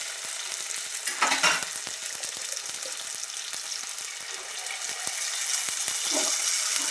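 Panipuri puris deep-frying in hot oil, a steady close sizzle and bubbling throughout with a few stirring scrapes from a slotted spoon pressing them down.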